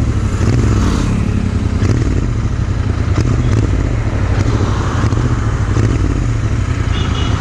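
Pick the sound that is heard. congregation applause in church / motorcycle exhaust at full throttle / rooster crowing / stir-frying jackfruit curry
motorcycle exhaust at full throttle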